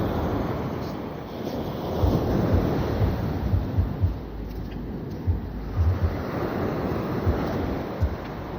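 Waves wash onto a beachfront in Jamaica, a broad rumbling surf with gentle surges, mixed with buffeting wind noise on the microphone.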